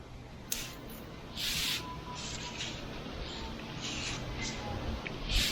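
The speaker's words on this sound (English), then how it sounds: "Always give yourself a test spray." Short hissing bursts of a spray nozzle test-spraying sealer, several quick sprays in an irregular rhythm, close by over faint outdoor background noise on a cool day.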